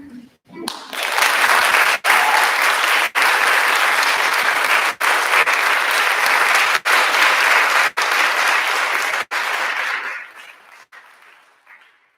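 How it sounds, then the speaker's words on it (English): Audience at a new-music recital applauds the composers: dense, sustained clapping from a full room rises quickly, holds loud for about nine seconds, then thins out and fades. "I'd like real quick just to give a huge round of applause to all of these composers"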